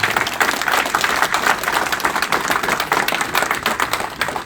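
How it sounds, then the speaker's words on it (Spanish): A crowd at a gathering of rural patrol members with economist Pedro Francke claps steadily and densely, a sustained round of applause with no speech over it. "Un aplauso para el compañero Pedro Frank"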